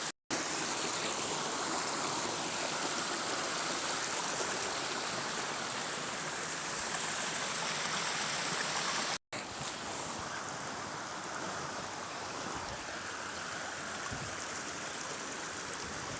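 A stream and hidden waterfall in Badger Wood, Todmorden, give off a steady, rushing wash of water heard fairly close. The flow continues unbroken apart from a couple of momentary dropouts.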